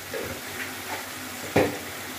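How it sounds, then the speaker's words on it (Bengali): Spice paste with cashew being sautéed in a pan for butter chicken, a soft steady sizzle with faint stirring scrapes and one brief louder clack of a utensil near the end. "এবারে মশলাটা ভালো করে কষিয়ে নিচ্ছি"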